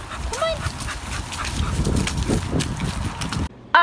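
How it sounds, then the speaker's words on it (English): An excited, happy pet dog snuffles and shuffles nearby with a few high squeaky whines, in a steady, busy indoor soundscape that ends abruptly in a loud burst. "What is it, Bobo? What is it? Happy dog! Happy dog"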